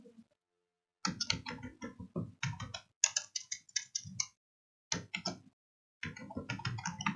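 Keys clatter on a computer keyboard in quick bursts of typing separated by short pauses, close and fairly quiet, with no voices.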